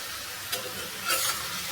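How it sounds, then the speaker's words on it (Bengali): Coriander, ginger, garlic, chili and cumin paste is stirred in a frying pan, a soft steady sizzle with two brief scraping stirs, faint and alone. "একসঙ্গে দিয়ে সব কিছু এবার নাড়াচাড়া করতে থাকবো।"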